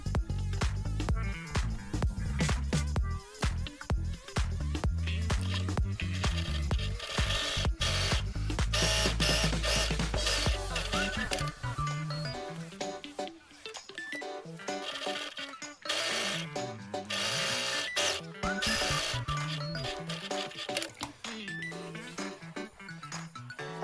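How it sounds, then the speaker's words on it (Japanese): A sewing machine stitches the side seams of a nylon eco bag, running in a busy, rhythmic mechanical chatter with short pauses and restarts. "こちらの30センチのところまで縫い代2センチで縫います"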